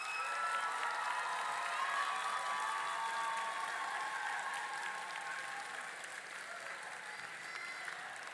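Graduates at an evening college commencement ceremony applaud their families, broad sustained clapping from a large crowd echoing in the hall, holding steady and easing slightly toward the end.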